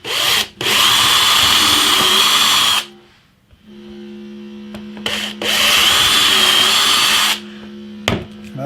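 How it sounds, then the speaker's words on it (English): A power drill bores holes through a plexiglass template, two loud sustained whining bursts separated by a quieter idling hum, with clicks of the trigger at start and finish. "So I'm going to drill some holes through there, I think."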